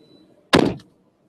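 A car door slams shut once, a single loud, close thunk that decays quickly, set against faint low background hum with no talk.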